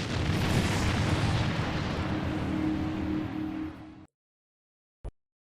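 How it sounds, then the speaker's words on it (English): Heavy explosions rumble continuously in Star Trek Voyager: Elite Force, a loud, dense booming roar that cuts off abruptly, followed after a second of silence by one short, sharp pop. "Explosions going off and she's making travel plans."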